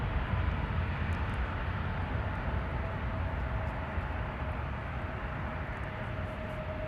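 Jet engine roar from an airliner in Maryland One livery taxiing or departing at Seattle-Tacoma airport, a steady broad rumble with a faint whine, fairly distant and even throughout.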